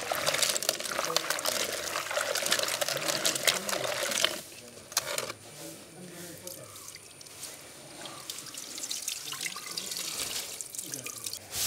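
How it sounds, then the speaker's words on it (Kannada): Cucumber and lentils being washed under running water in a village kitchen: splashing, pouring and dripping close by, with rattling handling sounds and a quieter stretch midway. "ಸೌತೆ ಮತ್ತು ಬೇಳೆಯನ್ನೊಮ್ಮೆ ತೊಳೆದುಕೊಳ್ಳುವ"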